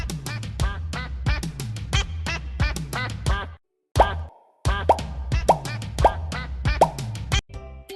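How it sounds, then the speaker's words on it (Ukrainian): Rapid rhythmic popping quacks from a cartoon duck repeat in quick succession, loud and close, with a short pause before the duck-like sounds resume. "Ого, це ж качка."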